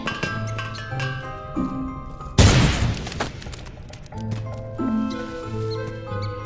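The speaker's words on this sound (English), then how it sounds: "Grenade!" A grenade in Worms Revolution goes off with one loud, sudden boom and a crackling burst that decays over about a second, set among playful game music and cartoon sound effects.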